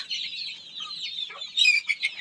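Free-range chickens perched up high keep up a steady, high-pitched chorus of clucks and chirps, with a louder burst of squawks near the end.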